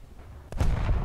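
A 76 mm tank cannon fires once in the War Thunder video game, a sudden loud boom followed by a rumbling roar that rolls on to the end.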